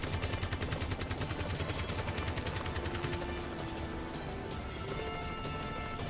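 Video-game gunship chain guns firing at incoming missiles, a rapid, evenly spaced burst of rattling shots for about three seconds, then a sustained mechanical whir and rumble, fairly close and loud.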